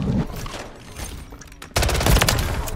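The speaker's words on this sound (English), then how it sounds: "Two Uzis on me." Uzi fire from a video game shooter: a rapid, dense burst of automatic gunshots erupting suddenly after a quieter stretch, loud and close, lasting about a second.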